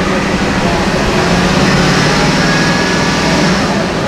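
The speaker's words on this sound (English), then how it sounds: "Just gonna raise the RPM, see if we get any noises." A 2019 van's engine is revved up to higher RPM, giving a loud, steady, dense drone that holds at a raised pitch for several seconds with no talk over it.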